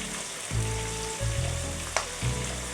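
Sliced large onion drops into hot oil with cumin seeds, a loud continuous sizzle and crackle with a few stirring scrapes and a sharp clink of a utensil against the pan.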